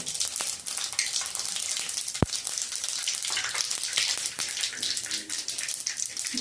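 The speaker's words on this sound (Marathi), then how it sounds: "आता फोडणीसाठी आपण पहिल्यांदा मोहरी घालूया।" Mustard seeds and cumin sizzle and crackle in hot oil as a tempering for poha, a steady broadband fizz throughout with one sharp pop midway.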